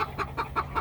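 A farm hen clucks while laying in a back corner of the coop, a close, steady run of about five rhythmic clucks with no talking.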